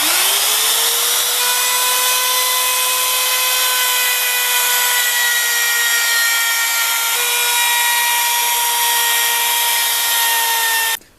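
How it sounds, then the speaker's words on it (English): A router fitted with a half-round bit smoothing the edges of a wooden hatchet handle: a loud, steady high-pitched whine spins up and holds continuously before cutting off abruptly at the end, with no talking. "Half round router bit to smooth over the edges."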